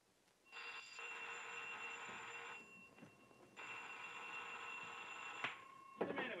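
An old-fashioned telephone bell rings loudly in two long sustained bursts separated by a short pause, followed by a couple of sharp knocks near the end, with no talking.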